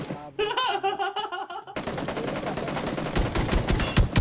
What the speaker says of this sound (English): That was a real grenade.